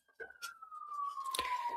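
An emergency vehicle siren passing outside holds a faint, slowly falling wail under quiet speech-like murmuring and a few sharp noises.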